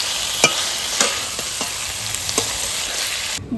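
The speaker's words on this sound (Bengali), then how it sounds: "এইবার আমি পটলটা দিয়ে ভালো করে কষাবো" Pointed gourd (potol) sautés in a pan for doodh potol, a steady hot sizzle broken by several sharp spatula scrapes and knocks, close and loud, ending abruptly.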